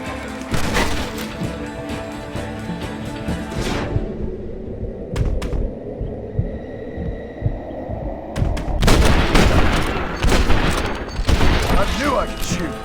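Rapid gunshots crack in close bursts during a Red Dead Redemption shootout, dropping away to a low hum with a few isolated shots before a dense, loud volley resumes; voices speak at times.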